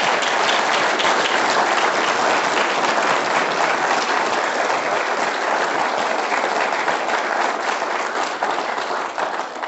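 Sustained audience applause at an evening panel discussion on the Murray–Darling Basin Plan, dense steady clapping from a large crowd holding loud and even throughout before easing slightly at the end.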